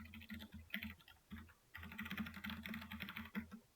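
Computer keyboard typing in bursts of quick, close clicks with a short pause near the middle, moderately quiet and with no voices over it, set in a web development lesson.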